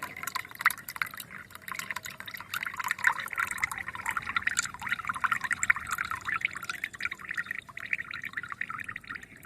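Liquid trickles and drips steadily through a strainer as two homemade garden ingredients, one containing calcium, are strained into a container, a continuous close wet patter with no voices.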